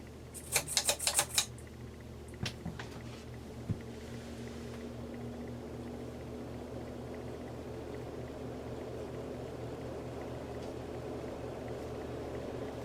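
A 36-inch original ceiling fan in a workshop runs on high, giving a steady, even motor hum and airy whoosh, with a few sharp clicks near the start.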